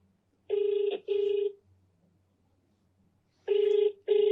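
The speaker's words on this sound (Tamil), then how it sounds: "அவருக்கு கால் பண்ணுவோம், லவுட் ஸ்பீக்கர் போட்டுருவோம்." A phone call ringing out over a loudspeaker, two paired tonal rings separated by a long gap, clear and loud in a quiet room.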